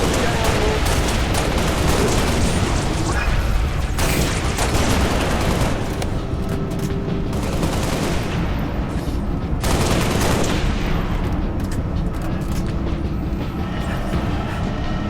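Sustained gunfire from Halo Reach weapons such as the Spartan Laser and DMR during a Legendary Sword Base battle, loud and dense with repeated bursts and blasts layered over continuous game noise throughout.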